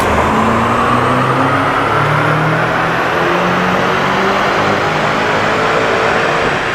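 A tuned BMW X5M runs on an in-house dyno, its engine droning loudly and continuously as the pitch climbs steadily through a long pull, with no talking over it.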